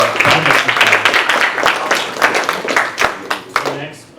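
An audience at an award ceremony claps for the winners, a dense burst of applause lasting several seconds and then thinning out, with a voice speaking over it.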